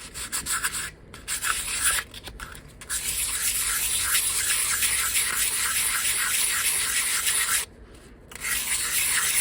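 Wet sanding of a candle jar cast from casting powder, a steady abrasive rasping rub that runs nearly unbroken, with short pauses near the start and another brief gap late on.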